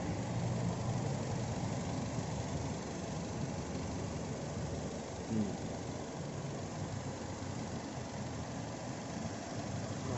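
A Nissan X-Trail T30 engine runs smoothly at idle, a steady low hum close to the microphone with an even, unchanging drone throughout.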